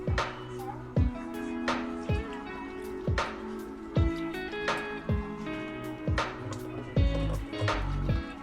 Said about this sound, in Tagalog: Kasi kinakamay ko ito guys yung pagpipiga ng ating malunggay